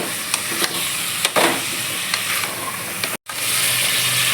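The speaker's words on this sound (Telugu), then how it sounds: "లైట్గా ఫ్రై చేసుకోవాలి బొబ్బర్లు" Cowpeas being lightly fried and stirred for biryani, a steady close sizzle with occasional scrapes of a spoon against the pan, briefly cut off near the end, no talking.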